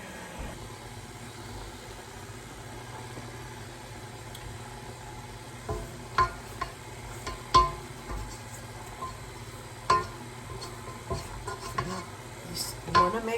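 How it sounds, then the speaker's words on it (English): A stand mixer's dough hook turns rustic bread dough at slow speed, a low steady motor hum with soft slapping and knocking of dough against the bowl that grows more frequent toward the end. "I'm going to have my dough hook starting slow, getting that dough together"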